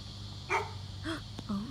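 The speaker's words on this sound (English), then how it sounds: "Why does that dog keep on barking at me?" A dog outdoors in the woods gives three short separate barks spaced about half a second apart, moderately close over a low background hum.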